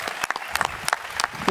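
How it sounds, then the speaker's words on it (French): Audience applause at a national eloquence contest in Aix-en-Provence, many hands clapping close by in quick irregular bursts throughout the short stretch. "je pense qu'on peut très fort les applaudir"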